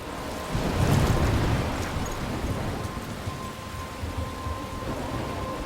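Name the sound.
storm with thunder and rain, video game Life is Strange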